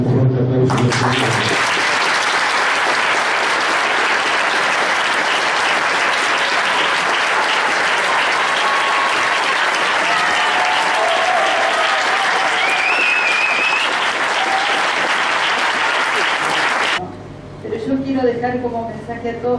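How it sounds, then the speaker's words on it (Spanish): An audience at a council swearing-in ceremony in San Isidro breaks into loud, sustained applause that fills the room for about fifteen seconds, then cuts off as a speaker resumes talking. "para eso quiero responder un fuerte aplauso de ustedes"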